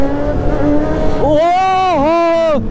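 A motorbike engine revs hard and rises to a high whine during a night wheelie on a group ride. Rising and falling tonal surges carry over steady road noise.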